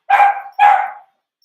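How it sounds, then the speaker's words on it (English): Two loud, close Pomeranian barks at home, each a sharp high yap falling away, spaced about half a second apart, then silence. "You won't be able to hear me over the dogs."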